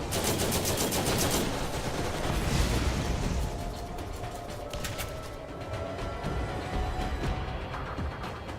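Rapid automatic turret gunfire in the Borderlands game, a dense, loud stream of shots that runs for several seconds with no talk over it.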